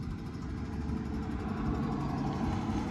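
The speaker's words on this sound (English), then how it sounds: "You'll hear the engine start up." A fire engine's pump engine idles steadily with a low, rumbling drone and no other sounds.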